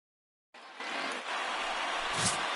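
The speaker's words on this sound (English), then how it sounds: "Not exactly ideal baseball conditions with the rain coming down" Steady rain falling in a baseball video game, a soft even hiss that starts abruptly after a moment of silence and holds constant.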